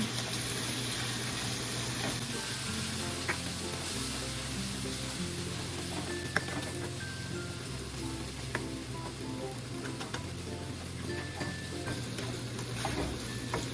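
Brown sugar being stirred into a cooking pan for Filipino chicken pastil, giving a steady close sizzle and frying hiss with soft scraping stirs throughout, no voices.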